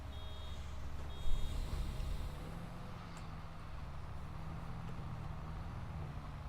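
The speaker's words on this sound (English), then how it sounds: "Oh, there goes a truck down the road." A truck in Farming Simulator 22 drives along a road, a steady low engine and road rumble with a brief swell, plus intermittent high beeping over a constant game background.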